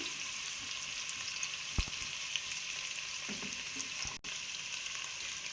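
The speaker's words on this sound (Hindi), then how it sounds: "पाँच मिनट तक मैं इसको फ्राई कर लूँ।" Mixed vegetables fry in ghee with a soft, steady sizzle at close range, broken by a couple of faint stirring knocks and a brief clatter near the end.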